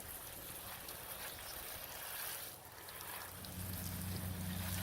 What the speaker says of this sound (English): Seems to be getting a fairly decent rinse